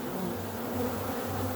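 Honey bees buzz around a hive entrance in a steady, close swarm drone with a faint low hum, continuous and without talk.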